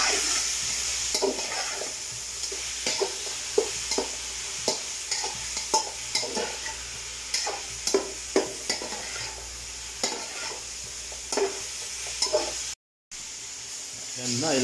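Arroz caldo with onion and garlic is stirred in a pot, a spoon scraping in repeated irregular strokes over a constant sizzling, steaming hiss, heard close and loud with a brief dropout near the end.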